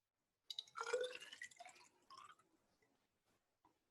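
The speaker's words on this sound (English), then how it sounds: "I'm going to fill that bad boy with water as well." Water runs into a graduated cylinder in a chemistry lab bench setup, a short burst of gurgling fill that fades into a few quiet drips.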